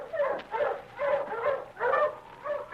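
Husky sled dogs bark and yip in rhythmic bursts, several close, excited calls in quick succession with short pauses between, no talking over them.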